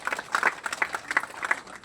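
A crowd at an Indonesian environment ministry handover ceremony in Jakarta claps in brisk, uneven applause that rises and falls in several clusters over roughly two seconds.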